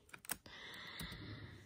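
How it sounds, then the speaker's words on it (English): Computer keys clatter in a quick cluster of faint clicks at the start, followed by a quiet steady room hum. "sorry that you hear my keys."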